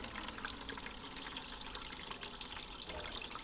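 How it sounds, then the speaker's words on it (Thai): Liquid from fermented papaya peels is poured into a container. A continuous trickling, splashing flow of liquid fills the short stretch at moderate level, with no talk. "เอาเฉพาะ น้ำลงไปนะครับ"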